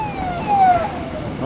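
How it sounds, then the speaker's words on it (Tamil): Siren wailing with a descending pitch sweep as it passes along a rainy Kerala road on the ride from Athirapally to Munnar, loud and close, over steady road and engine rumble. "2 ஆம்புலன்ஸ் வந்துச்சு."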